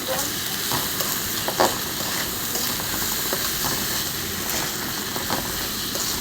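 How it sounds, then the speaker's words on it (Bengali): Rice fries and is stirred in spice-laden oil in a pan for festival bhog cooking, a dense continuous sizzle with scraping stir strokes and small clatters, close up and without speech. "চালটা একটু ভাজবো"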